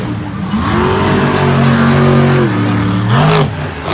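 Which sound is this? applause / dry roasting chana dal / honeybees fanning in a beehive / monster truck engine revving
monster truck engine revving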